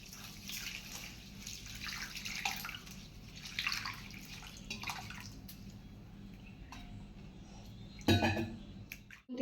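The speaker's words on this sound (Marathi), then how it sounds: "2-3 वेळा पाणी घालून आपण ते स्वच्छ असे धुवून घ्यायचे." Rice is washed by hand in water for modak dough, with continuous swishing and splashing, occasional clinks of a vessel and a louder slosh near the end, close and without speech.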